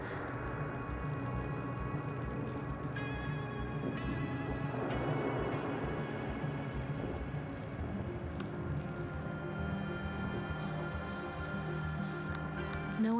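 Steady rain pours throughout a stormy scene in the video game The Invincible, with a soft low rumble of thunder near the middle and faint electronic tones above the constant hiss; no voices.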